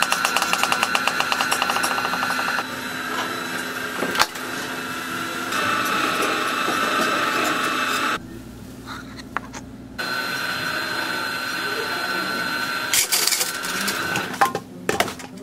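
A homemade PET pultrusion filament maker pulls plastic filament through gears, a steady mechanical whirring and ticking with rapid clicking bursts, running continuously with brief quieter gaps, close and moderately loud.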